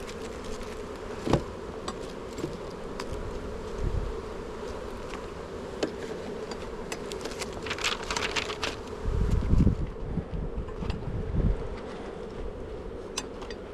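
Honey bees buzz around an open hive during an inspection at a bee hut, a steady close drone with individual bees zipping past the microphone and occasional faint rustling.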